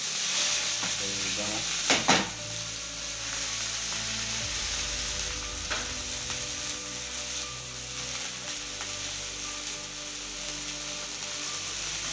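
Boneless chicken pan frying, a loud, continuous sizzle with an early burst of scraping or stirring, holding steady throughout with faint background voices.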